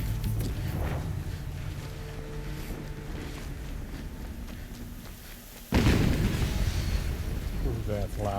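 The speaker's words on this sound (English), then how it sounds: "Ooh, that's loud. Another explosion." A loud explosion bursts in a video game, a sudden heavy boom that cuts in after a stretch of low rumbling ambience and leaves a roaring wash behind it.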